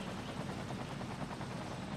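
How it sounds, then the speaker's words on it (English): Firefighting helicopters carrying water buckets in the city-building game Cities Skylines produce a steady, continuous rotor drone, moderately loud and unbroken, with no voices. "they've come flying over with their buckets of water just underneath the helicopter."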